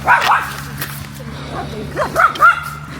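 A dog barks and yips outdoors on a walk in Germany, a few sharp calls scattered over several seconds with people talking nearby.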